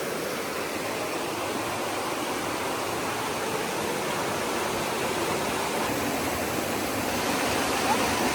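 A river rushes beside the Appalachian Trail in a constant dense broadband roar, close and loud throughout with no break.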